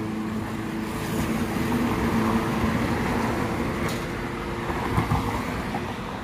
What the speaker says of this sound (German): Ganz wenige Roller und die meisten Leute sind halt noch mit dem Auto unterwegs.